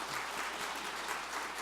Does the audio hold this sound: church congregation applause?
yes